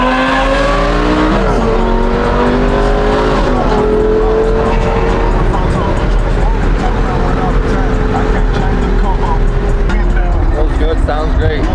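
A 2008 Lamborghini Superleggera with 37K miles is driven hard, its engine note climbing through gears under constant road and wind roar, heard from inside the car, with people talking faintly over it.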